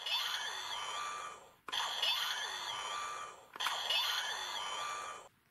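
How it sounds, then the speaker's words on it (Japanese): A DX Gashacon Bugvisor toy from Kamen Rider Ex-Aid, in beam gun mode, plays its electronic shooting effect three times in a row: bright synthetic zaps with warbling tones, each cut off sharply, close and clear. "A ボタンを押すと射撃音が鳴ります。"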